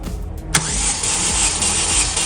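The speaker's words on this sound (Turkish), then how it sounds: "Şimdi bir Marşa basalım" A car engine, suspected of a burnt valve or head gasket fault, is cranked on its starter during a cylinder compression test, a sudden loud onset followed by about two seconds of steady, droning churn with no voices.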